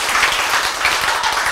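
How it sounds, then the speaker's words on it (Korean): A small lecture audience at a Korean class on healthy eating gives a brief burst of hand clapping, a dense patter lasting only a moment. "박수!"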